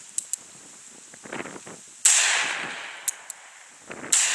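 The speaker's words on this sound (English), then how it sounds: "I'll go ahead and put a few shots down range" Handgun shots fired down range outdoors: a few sharp cracks, one loud close report with a long decaying echo, and smaller snaps around it.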